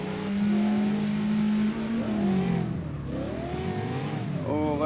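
Cars drifting in a tandem battle in the CarX Drift Racing video game, engines droning and sweeping up and down in pitch with tire squeal, loud and continuous, a voice faintly underneath.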